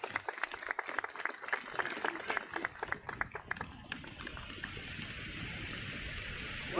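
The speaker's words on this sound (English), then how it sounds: "Ladies and gentlemen, big round of applause for Mr." A crowd applauds Bruce Allen at a live televised event, steady clapping from many hands that swells, then thins and fades into a soft wash of room noise.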